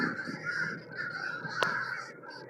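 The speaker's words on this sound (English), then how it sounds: "Millions of bird. Millions. Zillions." A huge flock of crows caws at once outdoors, a steady dense chorus of harsh calls with one sharper nearby caw standing out, and no voices heard.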